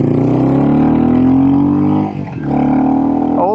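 A Royal Enfield Classic 350 SRT with a cam, FuelX, DNA filter and full exhaust pipe revs up loudly, its pitch climbing in a long pull, dipping briefly, then rising again, close and raw.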